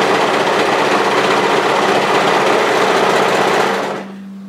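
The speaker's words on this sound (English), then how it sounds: "we want to overlock off at the notch" An overlocker sewing machine stitches along a fabric edge in a loud, fast, continuous whir that runs steadily and then cuts off, leaving a low hum.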